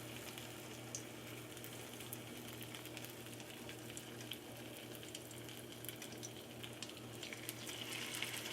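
Chicken fritters frying in olive oil in a pan, a faint, steady sizzle with soft crackles throughout and no voices.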